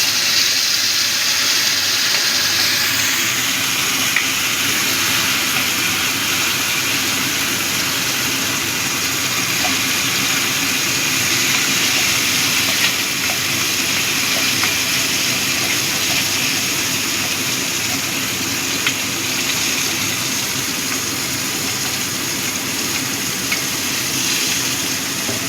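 Banana peel paste with black cumin seeds sizzling in hot oil in a pan, a loud, steady hiss of frying that carries evenly throughout with no voices.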